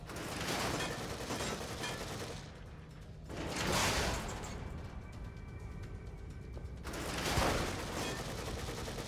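Gunfire in The Evil Within video game comes as dense, loud mechanical bursts in several surges over a busy game soundscape, with no talking.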